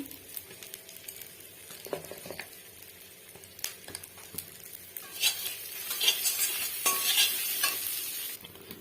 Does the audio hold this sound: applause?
no